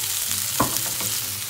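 A gurnard fillet fries in a pan with a steady, close hiss of sizzling oil and a brief stirring scrape, no voices.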